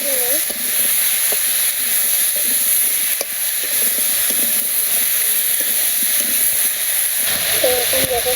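Water poured into a hot pan of fried tomato and peanuts sizzles with a steady, loud hiss for several seconds, and a faint voice sounds briefly near the start and end.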